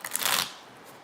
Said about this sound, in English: start shuffling cards